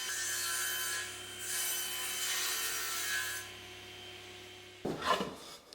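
Wooden backer board is sawn to its final size for a bottle opener notice board. A steady, close rasping saw runs for several seconds, then gives way to a brief knock and handling clatter at the end.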